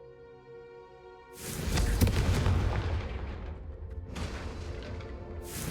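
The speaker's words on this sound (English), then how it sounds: "The first time Ominous and I practiced Confringo, we singed our eyebrows." A Confringo fire spell in the Hogwarts Legacy video game bursts with a sudden loud blast after a quiet musical lead-in, followed by a long rumbling decay and another burst starting at the very end.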